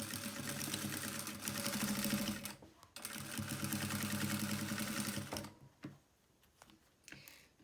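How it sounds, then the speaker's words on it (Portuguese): Sewing machine stitching a fabric pouch without bias binding, running in a steady close, loud mechanical rattle for several seconds, pausing briefly, running again, then stopping with a few faint clicks and handling sounds. "E depois eu costuro o restante."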